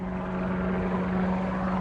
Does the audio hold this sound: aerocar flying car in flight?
yes